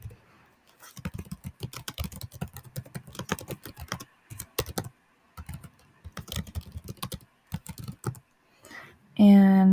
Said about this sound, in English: So let's just type it in for now.